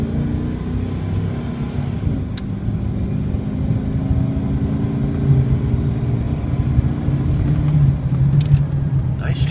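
A 2004 Chevrolet Silverado gas pickup with a heavy box body accelerates, its low engine rumble rising steadily and holding close and loud under cabin road noise.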